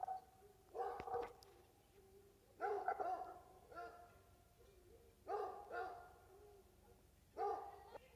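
A dog kept indoors barks in several short bursts, a few sharp yaps spaced a couple of seconds apart, muffled and moderately distant, with a low room hum behind it.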